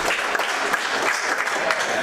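Dense, sustained clapping from a crowd on its feet at a handball nationals venue, the Multnomah Athletic Club, steady and loud with no break.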